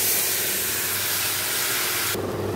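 Whole cumin, black cumin and dried red chillies tempering in hot oil, a loud steady sizzle throughout that shifts abruptly near the end as the pan settles.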